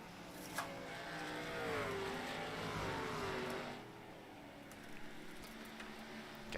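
Race cars running laps at a short-track motorsport event drone past at a distance, a steady engine whine that rises and falls as cars sweep by, fairly faint.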